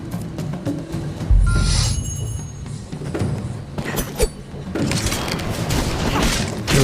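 Scarecrow targets are attacked in a training exercise in Dragon's Dogma: Dark Arisen, with heavy booming impacts, thuds and mechanical clanks at irregular intervals over game ambience.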